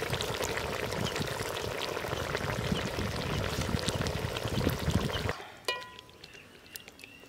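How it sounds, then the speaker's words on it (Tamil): Coconut milk squeezed and poured into a simmering quail gravy in a village kitchen, a steady splashing pour lasting about five seconds, then stopping abruptly and leaving a faint drip and soft clatter. "தேங்காய் பாலை புழிஞ்சு விட்டுருவோம்"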